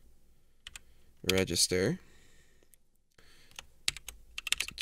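Keys clatter on a computer keyboard as code is typed, with a voice speaking briefly partway through and scattered clicks and taps continuing on either side.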